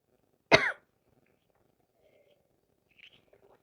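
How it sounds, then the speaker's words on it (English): A single close, sharp cough bursts out during an online horse-training workshop, followed by near silence with only faint background sounds. "I'm going to start coughing again."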